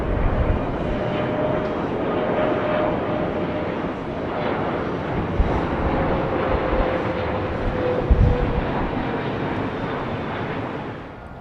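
A British Airways Boeing 777-200 airliner arriving at London Heathrow from Chicago, its steady broadband engine roar holding at moderate level throughout with a faint tonal whine running beneath.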